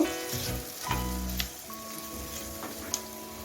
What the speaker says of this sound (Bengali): এ সময় আমি দিয়ে দিচ্ছি বানিয়ে রাখা পেস্টটা এবং গ্যাসটাকে আমি চার থেকে পাঁচ মিনিট ভালো করে গ্যাসটা নতুন মিডিয়ামে রেখে কষিয়ে নেব